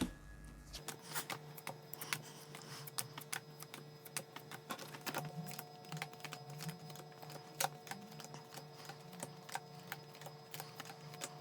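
Tarot cards from a Marseille deck being shuffled at speed, a dense, continuous run of quick crisp card flicks and riffles that stays close and steady, with no voices over it.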